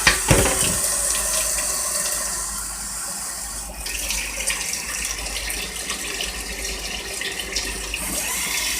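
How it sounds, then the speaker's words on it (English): Tap water runs into a cooking pot for lasagna rolls in a continuous close gush, with a sharp splash at the start and a slight shift in tone partway as the pot fills. "gonna run a little water in my pot"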